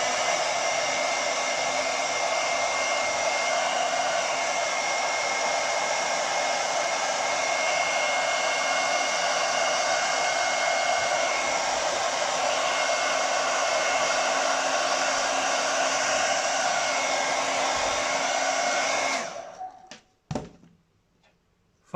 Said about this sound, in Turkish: Hemen saç kurutma makinemi alıyorum. Sıcağa getiriyorum.